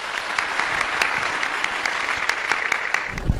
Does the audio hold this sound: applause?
yes